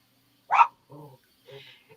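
A single sharp dog bark, followed by a few softer vocal sounds, with quiet gaps between them.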